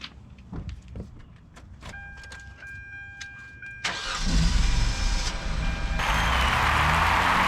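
A Hyundai Sonata with a suspected fuel pump problem cranks and fires up: clicks and chimes give way to a rising starter whir, then the engine catches and settles into a loud, steady idle close by.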